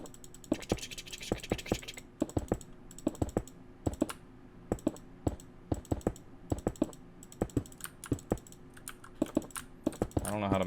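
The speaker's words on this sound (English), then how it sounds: "I don't know how to make my microphone not pick up my mouse clicks" Rapid computer mouse right-clicks picked up by a desk microphone during Minecraft play, sharp dry clicks repeating in an irregular fast rhythm over about ten seconds, close and fairly loud against a quiet background.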